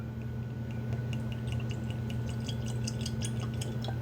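Ironton Distillery Colorado straight bourbon whiskey poured into a glass, a steady close trickle with small drips and glassy clinks over a low constant hum.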